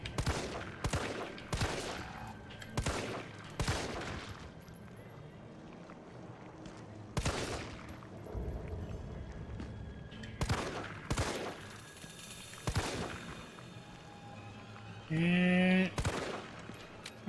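Gunshots fired at Nemesis in the Resident Evil 3 Remake video game, a dozen or so loud single blasts at uneven intervals over a game ambience, with a brief tonal game sound near the end.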